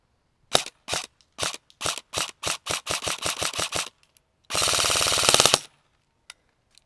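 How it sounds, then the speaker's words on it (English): Airsoft gun firing from an Elite Force mid-cap magazine: about a dozen sharp single shots in a quickening rhythm, then a fast burst of rapid fire for about a second, close and loud, no talk. "Now we're going to put it into the gun and shoot the 30 rounds that I have in it, see if it works."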